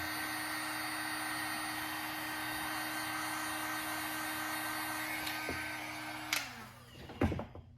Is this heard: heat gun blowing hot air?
yes